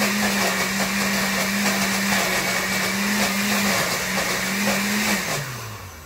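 A blender runs steadily, mixing a seasoning blend of herbs and oil, its motor holding a constant drone before winding down near the end.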